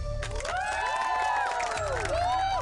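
College students in a Hindi-dubbed film scene shout and cheer as a loud crowd, with high whoops and rising yells layered over continuous background din.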